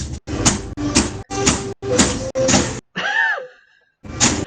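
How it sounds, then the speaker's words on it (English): Someone bangs on a door: six loud, evenly spaced heavy thuds, then a brief voice, then one more bang after a short silence. "Who is banging a door or something like that?"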